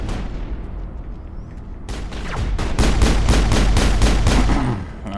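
Rapid bursts of gunfire in the Mass Effect video game at the Therum ruins, a sniper among the shooters. Loud, dense volleys crackle in a fast repeating rhythm after a quieter opening, with no talk over them.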